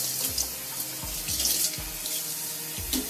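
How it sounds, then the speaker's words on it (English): Warm water gushes steadily from a sink tap while a human hair wig is rinsed, a close, constant splash broken by a few sloshing pulses as the hair moves under the stream, with no speech. "we're going to rinse with warm water"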